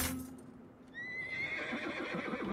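A war horse in an animated film lets out a single loud, shrill whinny that rises and wavers for over a second, with some clattering and background noise around it.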